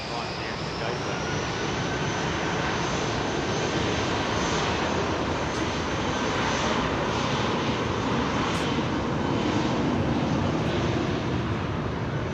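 Jet aircraft engines roar at Heathrow airport near a 767-400, a loud, steady broadband rumble that fills the whole stretch without pause, with voices faintly beneath.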